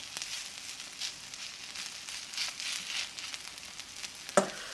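Shrimp and zucchini pancakes fry in oil in a cast-iron pan, a steady soft sizzle throughout with faint crackles and one brief sharp clink near the end.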